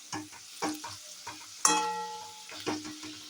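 Onions and chicken fry in a pan with a steady sizzle, broken by several stirring scrapes and one sharper clatter near the middle, close and moderately loud with no talking.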